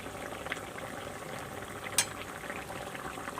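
Green banana curry simmering in a pan as a spoonful of local ghee goes in, giving a steady low bubbling and frying hiss with one brief sharper sizzle burst midway; no talking.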